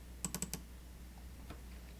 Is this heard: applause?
no